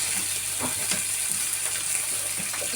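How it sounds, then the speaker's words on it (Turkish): Steady sizzling of food frying on a hot grill, a continuous crackly hiss with faint clicks and scraping throughout. "Bunları ellemesen çabuk kızarmaz. Çevire çevire çabuk kızartalım."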